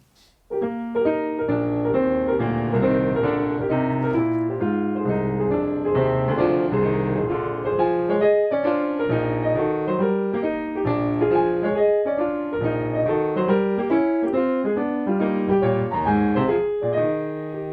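A solo piano plays a continuous, busy Schumann passage in single beat, with evenly pulsed notes and full chords, steady and fairly loud throughout with no pauses.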